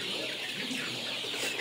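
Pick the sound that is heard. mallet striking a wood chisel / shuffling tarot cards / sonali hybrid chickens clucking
sonali hybrid chickens clucking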